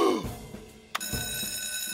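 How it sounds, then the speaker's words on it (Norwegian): A telephone rings in the Fireman Sam cartoon as a call goes out to the fireman; a loud mechanical bell trill sounds twice in quick succession, close and clear, with no talk over it. "Jeg drar og ringer brandmann Sam."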